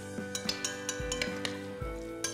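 A spoon stirs olive oil through raw salmon tartare in a bowl, giving light clinks and scraping taps in a steady, close rhythm with no voices.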